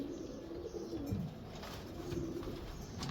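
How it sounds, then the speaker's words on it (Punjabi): A female domestic pigeon, bred from a pure Teddy mother, gives soft, low, rolling coos in a few close phrases against a quiet background. "ਇਹ ਮਾਦੀ ਮੇਰੇ ਘਰ ਦੀ ਕਬੂਤਰੀ ਆ ਜੀ"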